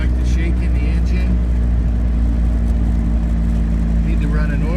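A 1961 Triumph TR3B engine idles in a steady, unbroken drone with a firm low rumble, loud and close, while a voice talks over it.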